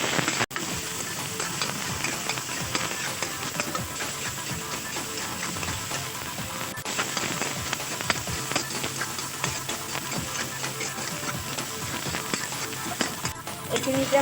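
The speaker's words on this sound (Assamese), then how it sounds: "ইয়াতে নিমখ অকণমান আৰু সয়াবিনখিনি এতিয়া মই ভালদৰে ভাজি ল'ম" Soybean chunks fry with turmeric and salt in a hot pan, giving a steady, close, crackling sizzle that holds evenly from start to end.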